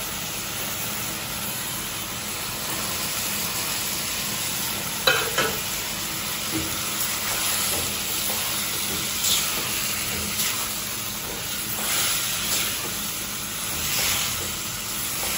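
Food frying with spices in a pan while being stirred: a continuous close sizzle and hiss with scattered scraping strokes and a louder clatter partway through, no talking.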